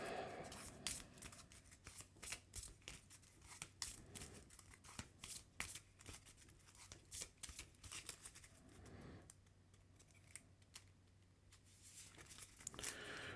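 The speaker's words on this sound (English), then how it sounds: "I will then use Worthington Industries to shuffle Cannonball back into my deck" A deck of cards is shuffled during a Marvel Champions card game, making repeated crisp riffling and sliding bursts close by, over a steady low hum.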